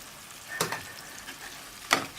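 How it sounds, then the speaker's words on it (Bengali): Spices with turmeric and salt sautéing in a pan for a lightly spiced radish fry (mula bhaji): a faint, steady sizzle broken by two brief, sharp stirring scrapes. "সব কিছু দিয়ে জাস্ট 2 থেকে 3 মিনিট এই মশলাটাকে কষিয়ে নিতে হবে।"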